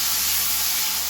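Chopped onions frying in hot oil left over from frying eggplant, a steady loud broadband hiss and sizzle holding unbroken without pauses, heard close and alone with no voices.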